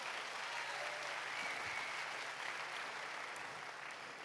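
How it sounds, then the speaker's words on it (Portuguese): A church congregation applauds Jesus during a Pentecostal-style service, a steady, even wash of many hands clapping that stays faint and distant from start to finish. "Pode aplaudir Jesus."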